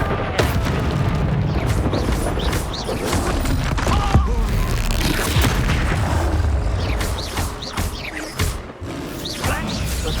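Expulso spell blasts in the Hogwarts game, a continuous barrage of loud booms, crashes and thuds in close succession throughout the combat.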